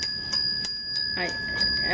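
A small metal bell from a Thai temple rings in several light, clear strikes with a sustained high tone between them, close and fairly quiet against a faint background.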